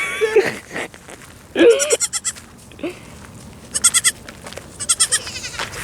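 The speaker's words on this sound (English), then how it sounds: "I think my mom has a goat problem." Several goats, babies among them, bleat repeatedly near and loud, a run of quavering, pulsing cries overlapping and answering one another, with a person's voice faintly in between.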